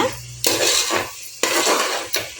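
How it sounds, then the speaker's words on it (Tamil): Curd being stirred into half-cooked masala for chicken biryani, a spoon scraping and clinking against the metal pot in three loud, distinct bursts, with no talking. "இப்போ இந்த ஸ்டேஜில் நான் ஒரு 3 ஸ்பூன் பாருங்கள் கர்ட் எடுத்துருக்கேன், மிக்ஸ் பண்ணிக்கலாங்க."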